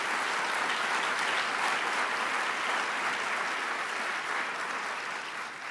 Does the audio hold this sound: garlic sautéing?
no